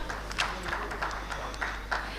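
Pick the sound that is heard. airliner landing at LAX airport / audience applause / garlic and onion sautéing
audience applause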